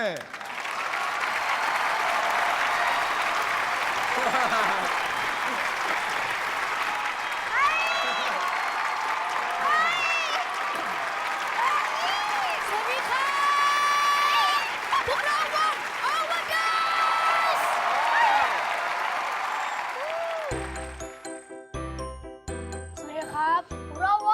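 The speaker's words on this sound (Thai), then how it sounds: "ขอเสียงปรบมือดัง ๆ เลย" A crowd at a Thai youth band audition show applauds loudly, with cheering and whistle-like shouts over the sustained clapping. Near the end the clapping gives way to bright, chiming musical notes.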